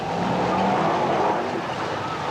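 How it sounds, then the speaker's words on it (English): A Brisca F1 stock car loses grip in the pit turn on the last lap, its engine roar and scrubbing tyres forming a steady, loud wash of racing noise. "Harrison struggles to find grip as those 2 cars go into the pit turn for the last time"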